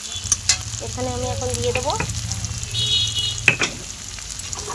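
Onion frying in a pan for chicken kasha, a soft steady sizzle with stirring scrapes and clinks, under a woman's brief speech.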